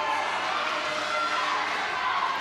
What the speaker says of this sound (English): an incredibly vocal Finland crowd joining us in Barcelona